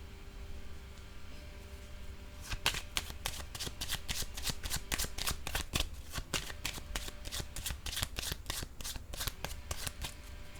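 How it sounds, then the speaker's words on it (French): Tarot cards are shuffled in a long run of crisp, rapid riffling flicks, close and fairly loud over quiet room noise, after a quieter moment of handling. "Je vais déposer une autre carte ici."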